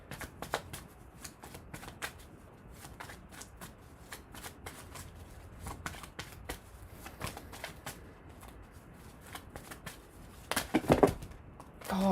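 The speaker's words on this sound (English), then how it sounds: "these cards are shuffling so bizarrely today" Tarot cards are shuffled continuously by hand, a steady stream of quick papery flicks and slides, close and moderately loud, growing busier near the end.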